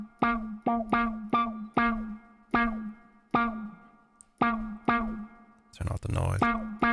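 Electric guitar played through a Ripley pedal's reverb with its delay engine switched off: a run of plucked notes and chords, each ringing into a reverberant tail, with a brief burst of noisy strumming near the end.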